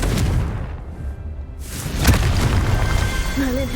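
A fire spell explosion in the video game Hogwarts Legacy, a deep booming blast with a rumbling low-end tail, loud and close over continuous game ambience.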